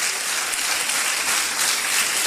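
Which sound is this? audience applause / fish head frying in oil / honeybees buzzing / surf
audience applause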